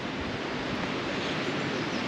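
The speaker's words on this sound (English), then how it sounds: "It's kind of windy at the minute, eh?" Steady, heavy wind buffeting the microphone on a hilltop in the Simonside Hills, Northumberland, a continuous low roaring rumble with no pauses and no voices.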